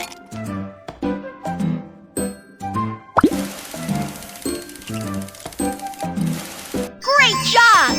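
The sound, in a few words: ice cubes poured into ice crusher, Babybus video game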